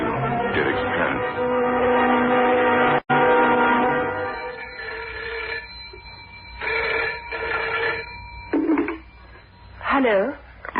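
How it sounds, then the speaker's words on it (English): Telephone dialing tones in an old-time radio horror drama come as a series of steady electronic beeps and a ringing tone, with voices heard briefly toward the end. "The next morning, I made a phone call to Derek's parents."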